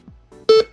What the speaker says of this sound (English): If I did the calculator, it would beep loudly.